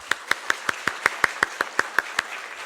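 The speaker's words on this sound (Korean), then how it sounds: "우리 고3 학생을 위해서 박수 한번" A church congregation clapping together in a steady, even rhythm, about a dozen sharp synchronized claps at a moderate pace before trailing off, with no talk over them.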